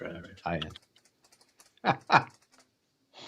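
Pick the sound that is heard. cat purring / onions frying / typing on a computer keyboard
typing on a computer keyboard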